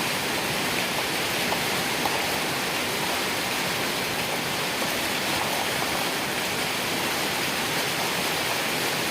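Steady, dense rain hiss fills an outdoor rural scene in Thailand evenly without pause, a broad wash of falling water close by.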